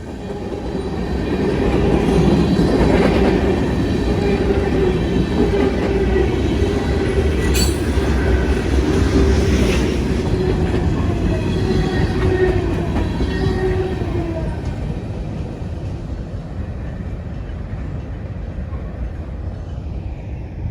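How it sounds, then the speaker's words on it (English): A CSX freight train with a GE locomotive and distributed power unit rolls past in Georgia, a loud continuous rumble of wheels and cars with brief squeals, slowly fading toward the end. "a CSX GE DPU flew on by."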